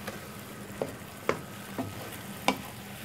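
Pacific shrimp in a creamy sauce with chili and bell pepper bubble softly in a pan while a utensil is stirred through them, leaving a few light scraping taps spaced over a low, even sizzle.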